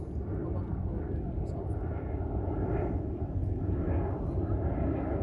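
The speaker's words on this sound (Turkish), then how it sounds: "Yukarıdan da uçak geçiyor." An airplane passes overhead above a harbor where sailboats are raising their sails. It makes a loud, steady roar that fills the whole stretch without a break.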